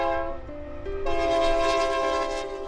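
A train horn sounds across open prairie, holding steady tones that shift pitch partway through, over the low rumble of the passing train. It is loud and continuous, with no talk.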